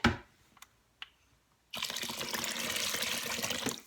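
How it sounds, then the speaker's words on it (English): After a couple of light clicks and knocks, water pours steadily from a tap into an Instant Pot, a loud, continuous splashing rush that runs close and unbroken to the end. "I think I'm going to add just a little bit more water"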